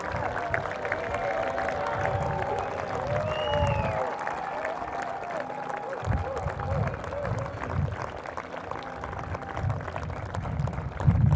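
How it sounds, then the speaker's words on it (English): Audience applause fills a commencement ceremony for a graduating class, a dense, sustained clapping from a large crowd with scattered cheers, and voices murmur beneath it throughout. "please give the Corps of Cadets a vigorous round of applause"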